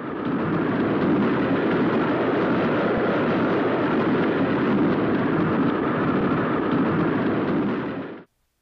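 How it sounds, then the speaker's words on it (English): A train rushes past at running speed, heard from outside the cars as a steady, loud, continuous roar of wheels and rail noise that holds even for about eight seconds, then cuts off abruptly. "Sound of a train's exterior at running speed."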